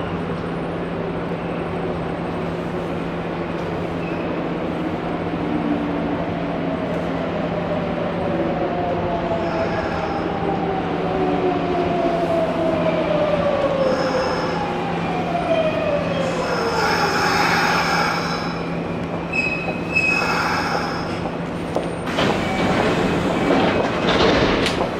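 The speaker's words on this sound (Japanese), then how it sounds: "A semi express bound for 大和西大寺 is arriving at" A Kintetsu Nara Line semi express bound for Yamato-Saidaiji pulls into track 1 at Kintetsu Nipponbashi Station, its motors whining in falling tones over steady rail rumble, with brake squeal and clatter as it slows alongside the platform.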